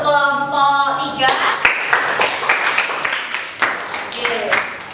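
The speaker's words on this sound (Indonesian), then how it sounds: "Tepuk tangan untuk kelompok 3" A classroom applauds group 3 after their presentation, with brisk, scattered clapping that starts after a short stretch of speech and continues for several seconds.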